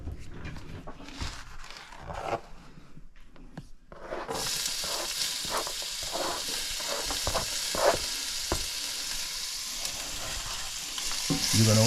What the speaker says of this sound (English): Now that the oil is hot, we just get the onions in there